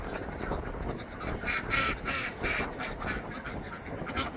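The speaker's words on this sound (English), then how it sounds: "Little white ducks there too." Small white ducks near a pond give a steady run of soft, overlapping quacks from a nearby flock, fairly faint against outdoor background noise.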